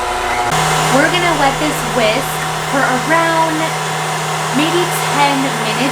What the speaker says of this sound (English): go ahead and raise the speed to a little bit faster. We're gonna let this whisk for around